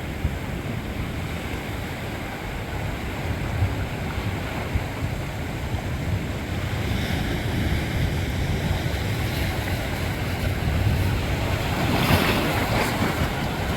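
Ocean surf washing onto a rocky shore during shore fishing for rockfish, mackerel and squid, a steady broadband roar with gusting wind buffeting the microphone and a slight swell of surging water near the end, no talking.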